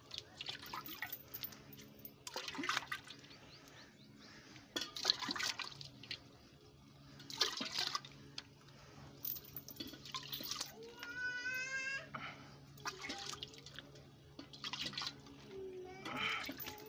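On a Punjabi farm, water is thrown over mud-caked cattle to wash them before milking, making repeated splashing bursts and dripping at close range, with a brief rising animal call partway through.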